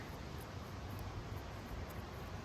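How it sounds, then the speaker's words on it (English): Steady wind rushing and buffeting, a faint low broadband roar with no voices. "It's starting to get very windy."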